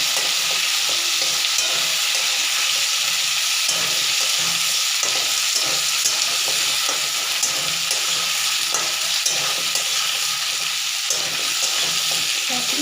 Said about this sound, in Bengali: এবার একটু ভাজা ভাজা করবো